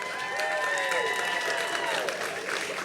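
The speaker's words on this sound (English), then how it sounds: "oh, thank you for that applause" Applause from a convocation audience at a university ceremony, a steady wash of crowd clapping and cheering with voices mixed in underneath.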